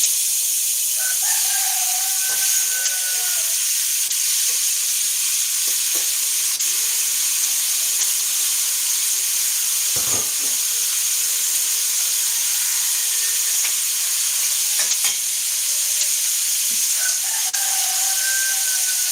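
Food fries in a pan with a loud, steady sizzle and hiss throughout, while a rooster crows faintly in the distance a few times.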